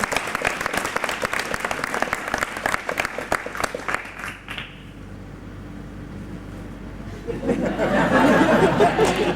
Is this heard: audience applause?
yes